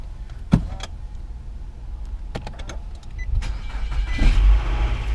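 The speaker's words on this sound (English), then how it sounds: "car fires right up" Nissan Altima starting up after intelligent key programming: a few sharp clicks, then the engine cranks and catches near the end, settling into a close, steady idle rumble.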